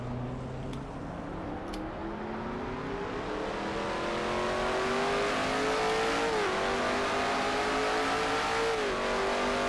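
Onboard a stock car lapping Sonoma Raceway in the NNSCRA Castrol GTX Cup Series, the engine drones loud and steady at high revs, pitch climbing slowly, with two brief dips as it shifts or lifts.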